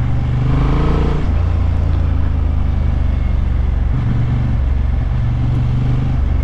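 Honda Hornet 750 motorcycle in sport mode, its engine droning loud and close with a rise in pitch as it accelerates, shifts briefly, then pulls again, steady wind noise throughout.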